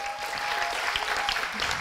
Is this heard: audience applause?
yes